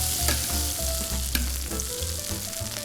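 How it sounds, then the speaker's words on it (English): Steak basted with browning butter in an already hot pan in a hotel executive chef's kitchen: an even, close crackling sizzle with rhythmic spoon scrapes and clinks, no speech. "As you're basting, you don't really need the fire or additional heat, because your pan's already hot, and you're going to get a nice browning of your butter."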